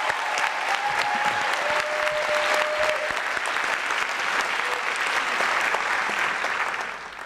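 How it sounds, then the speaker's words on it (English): Sustained applause fills an awards ceremony hall, a dense crowd clapping steadily at moderate loudness for several seconds before tapering slightly at the end. "deserves a big round of applause"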